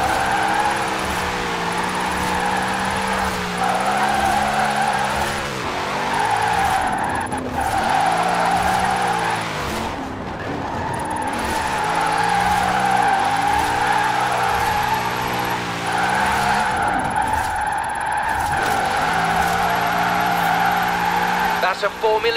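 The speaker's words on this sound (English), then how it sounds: "It's a Formula Drift machine, so you've got over 70 degrees of steer angle to play with." Formula Drift car in Forza Horizon 4 drifting through switchbacks, a loud sustained engine roar with strong harmonic whine and continuous tire squeal, dipping and rising with shifts and transitions, under a voice talking.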